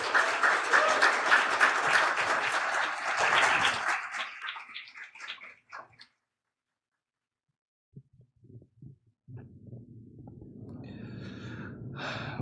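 A church congregation applauds after a healing testimony, a dense burst of clapping that fades away over several seconds, followed by silence and then a low, muffled murmur.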